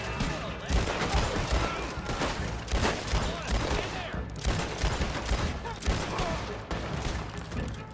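Gunfire in Red Dead Redemption 2: rapid, dense bursts of shots in a sustained fusillade, loud and close, with brief pauses between volleys and voices underneath.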